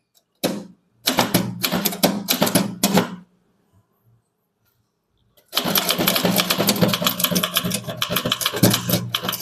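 A manual typewriter types a Tamil letter, with rapid clacking keystroke bursts, a short silent pause, then a longer stretch of steady, close typing.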